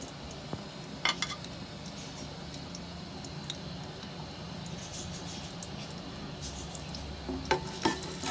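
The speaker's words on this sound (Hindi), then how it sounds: "प्याज को, गरम मसाले को फ्राई करते हैं।" Bay leaf, onion, white cumin and whole garam masala fry in half a kilo of hot oil for nalli nihari, a steady, moderately quiet sizzle with a few sharp ticks and pan knocks scattered through it.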